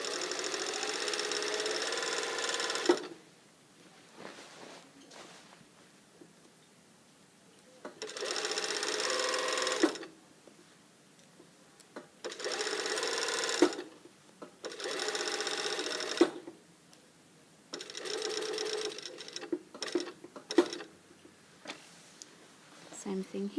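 Domestic sewing machine stitching a blazer collar seam in several loud bursts of rapid whirring, separated by quieter pauses when the needle stops and the fabric is pivoted.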